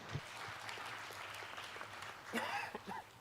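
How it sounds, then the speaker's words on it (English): Faint, scattered clapping from a forum audience welcoming a speaker at a cities and human values event, soft and distant, with a short voiced sound partway through. "So please give her a big round of applause."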